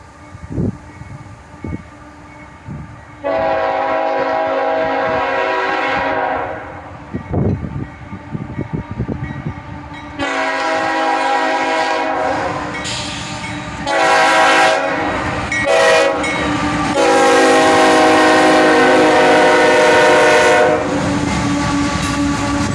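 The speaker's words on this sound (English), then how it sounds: "another train came. This time a southbound." A southbound freight train led by a pair of AC44CW locomotives passes close by, its horn blaring in several long blasts over the heavy rumble and clatter of the wagons.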